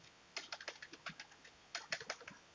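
Quiet, close typing on a computer keyboard while entering text into an HTML registration form, two short bursts of rapid key taps separated by a pause, with no talking.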